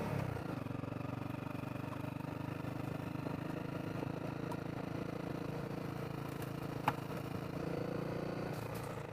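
A Honda CRF250L dual sport motorcycle engine runs steadily while riding, a constant mid-pitched drone with some wind rumble and a single sharp click partway through.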